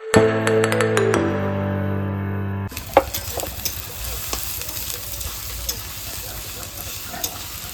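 Cumin seeds and onions frying in a pan on a home stove give a steady close sizzle with scattered stirring clicks and scrapes, following a short stretch of music at the start.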